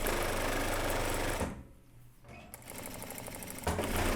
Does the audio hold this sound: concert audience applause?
no